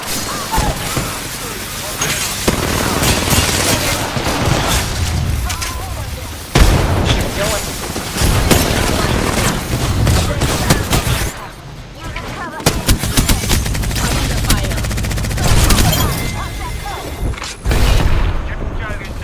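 Dense enemy gunfire in a video game firefight: sustained automatic bursts with booming impacts and explosions, loud and close, breaking off briefly and then resuming, while a player calls out over the shooting.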